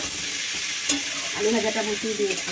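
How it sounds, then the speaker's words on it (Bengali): Potatoes fry in a pan with a steady, bright sizzle, broken by a clink and light stirring scrapes, as low, soft voices murmur in the background. "আলু ভাজা বসিয়ে দিয়েছি"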